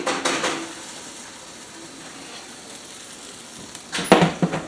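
A roasting tray of tomatoes, onions and garlic slides out of a hot oven after baking, giving a burst of metallic clatter and scraping near the end, with quieter kitchen handling and faint clinks at the start.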